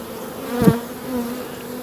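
Honey bees drone in an apiary, a low steady hum with one bee buzzing louder and nearer for a moment before fading back into the faint background murmur.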